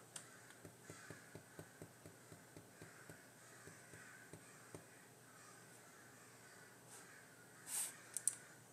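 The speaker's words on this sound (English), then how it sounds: "Yeah, there's crows. You can hear them." Crows caw in a rapid series of short, distant calls during the first half, then fall quiet, leaving faint outdoor ambience with a couple of brief bursts near the end.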